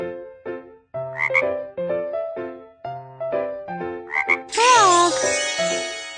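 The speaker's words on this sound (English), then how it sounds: "Frog." A frog croaks a few times, with short warbling calls near the middle and a longer wavering croak toward the end, all over a bouncy children's tune.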